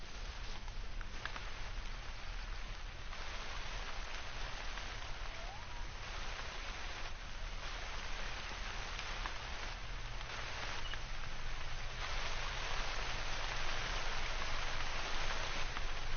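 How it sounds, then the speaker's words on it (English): Steady heavy rain pours in the hunting game theHunter: Call of the Wild, a constant dense hiss that swells slightly louder toward the end, with no talking. "Because it's just going to continue to pour rain down on us."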